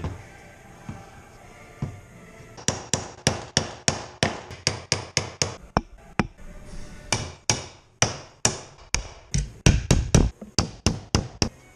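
A hammer drives nails into pre-drilled wooden boards while a bee swarm trap frame is assembled, delivering a rapid series of sharp, loud, close knocks in quick bursts with brief pauses between runs.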